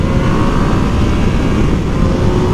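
2020 Yamaha MT-09 motorcycle riding at highway speed in fourth gear, its engine a loud, steady droning roar mixed with rushing wind, with a slight rise in pitch as it pulls.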